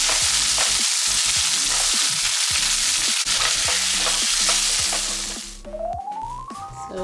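Shrimp, cleaned and patted dry, frying loudly on a stovetop for Hello Fresh tacos, a steady dense sizzle with stirring clatter that cuts off near the end, leaving a faint rising tone.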